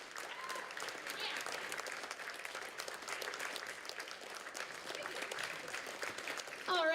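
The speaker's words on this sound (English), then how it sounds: "Please clap all the way until Bill is standing up next to me." Sustained audience applause at a poetry slam event fills the whole stretch, steady and dense, with a brief voice breaking through right at the end.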